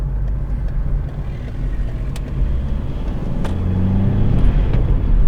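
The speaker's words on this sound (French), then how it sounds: "là c'est pour ça que je fais des accélérations comme un porc" Peugeot 307 engine accelerating from inside the car, a low rumbling drone that swells gradually with rising revs, heard close with faint clicks and no speech over it.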